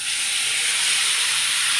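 Loach fish sizzling as it drops into hot oil in a home kitchen pan, a steady, loud, broadband hiss that holds without a break.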